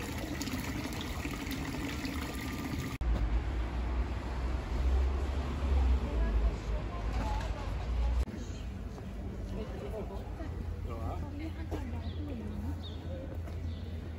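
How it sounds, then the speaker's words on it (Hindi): Water trickles and splashes from a fountain at Zurich's cathedral, a steady light flow heard close by beneath someone talking throughout. "यहाँ पर पानी यहाँ से आ रहा है"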